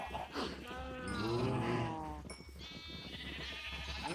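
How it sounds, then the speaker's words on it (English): Cows in the Minecraft video game mooing in a low, drawn-out call mid-clip, with brief game sounds around it and a person talking over the top. "We are getting quite a few cows now"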